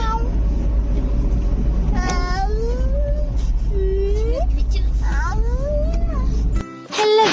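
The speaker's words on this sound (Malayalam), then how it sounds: "പൂച്ചക്കുട്ടി എങ്ങനെ കറിയാ?" A kitten meows several times in rising, wavering cries, fairly close, over a steady low engine rumble from a moving vehicle on an outing.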